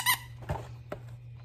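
A squeaky dog toy gives one sharp, high squeak, followed by a couple of softer squeezes in a quiet room with a low background hum.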